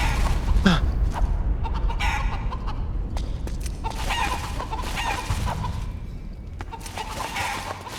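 Chickens cluck in bursts with an occasional rooster crow inside the Metal Gear Solid 4 game world, fairly close and continuous against busy in-game ambience.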